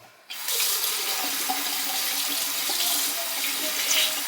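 Tap water running into a sink to wet a makeup sponge: a sudden start followed by a steady, close, splashing stream that continues without pause and with no voices.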